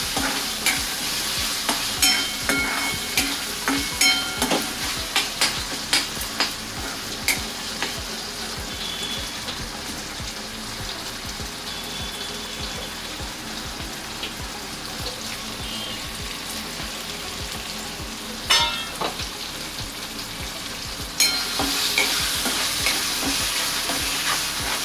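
Curry leaves and chopped tomato fry in oil for a Malvani-style kalya vatanyachi bhaji, a loud, steady sizzle broken by repeated spoon scrapes and clatters against the pan throughout, with no talking.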